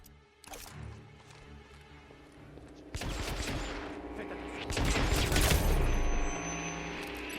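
Gunfire in the video game Hitman: Absolution, with single shots and then rapid bursts that grow louder and denser into sustained fusillades over a steady game background.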